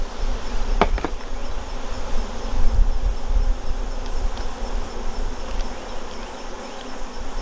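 Honeybees swarm around an opened beehive during an August hive inspection, a steady, dense buzzing hum that fills the clip close up, with a couple of brief knocks near the start.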